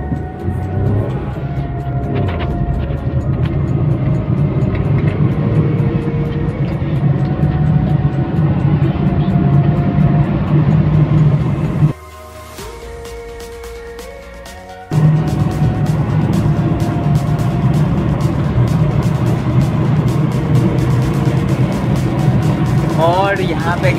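A Tata Altroz 1.2-litre car accelerates hard from 0 to 100, its steady engine drone filling the cabin up close, with a brief drop around a gear change before the revs climb again; someone talks over it.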